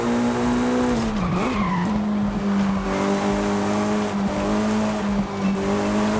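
Mitsubishi EVO 9 in Forza Horizon 5 braking hard and drifting, a steady loud engine drone with shifting pitch and tire squeal running through the whole stretch, no talking.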